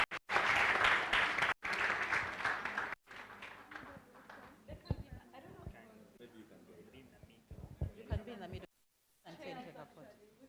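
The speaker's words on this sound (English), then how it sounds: "Or shall we clap for them?" An audience claps for the winning team at an inter-university constitutional law moot court competition; loud, dense applause breaks out in bursts, then thins into scattered claps and footsteps with voices talking.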